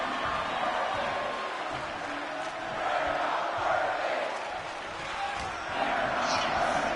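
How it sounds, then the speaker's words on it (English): A capacity crowd at an all-star pro wrestling show roars and cheers steadily throughout, loud and diffuse, swelling in waves with no clear voices standing out. "this capacity crowd making some noise"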